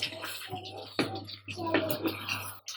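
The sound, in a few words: water poured into chicken korma masala for gravy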